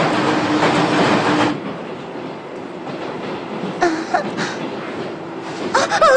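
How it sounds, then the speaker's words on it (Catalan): A train rumbles steadily along the rails with a rhythmic clatter, louder at first, then easing, with brief metallic squeals near the end. "Sort que el tren fa mitja volta i tornem."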